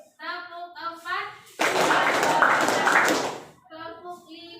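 Students of class 11 MIPA 3 clap in unison. A loud, sustained burst of massed clapping runs for about two seconds, with children's voices before and after it.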